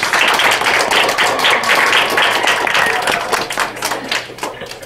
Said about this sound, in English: Everybody, round of applause for our students.